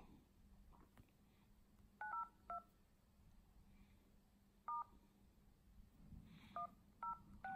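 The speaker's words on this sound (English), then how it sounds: "after a few times of pressing dial button, you're going to press same thing one more time as I am doing" iPhone dial buttons pressed repeatedly, sounding short DTMF beeps in small clusters of two or three tones, faint against a low background hum.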